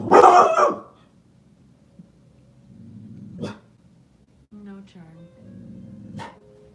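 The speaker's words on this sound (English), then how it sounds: "my dog can be an interruption" Dog barking during an indoor yoga session, one loud close bark at the start followed by softer whimpers and brief yelps, with low-level sounds in between.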